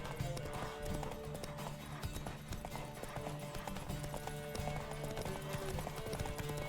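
Horse hooves galloping at a steady clip-clop rhythm in The Witcher 3: Wild Hunt, close and continuous, with game sounds layered underneath.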